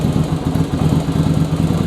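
A Yamaha Virago 1100 motorcycle idles loud and close, its uneven, lumpy beat stumbling as one weak cylinder cuts out, giving an irregular, rough throb with no voices over it.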